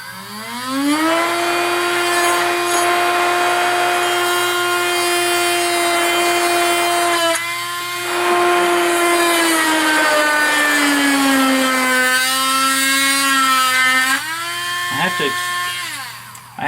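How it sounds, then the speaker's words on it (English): Dremel rotary tool cutting near a model base, a loud close high-pitched whine that holds steady, briefly cuts out, then sags and rises in pitch as the load changes. "have to emphasize extreme caution when using a Dremel tool, especially this close to your fingers."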